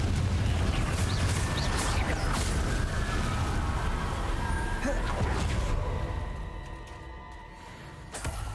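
A Confringo blasting spell explosion in the video game Hogwarts Legacy, a dense, loud booming roar that holds for several seconds, then fades into quieter rumbling.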